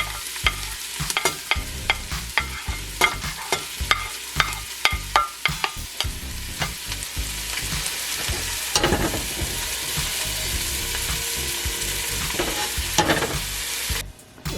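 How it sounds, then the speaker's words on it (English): Onions and garlic sauté in a pan, a continuous sizzle broken by sharp scraping and clacking strokes of a stirring utensil, busy at first, then a steadier frying hiss. "I'm going to saute the onions and garlic"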